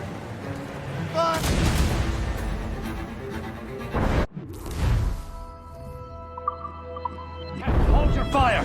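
Booming ship cannon fire from a naval battle in the Assassin's Creed Rogue video game: heavy broadband blasts with a sharp crash near the middle and another round near the end, with game voices talking amid the roar.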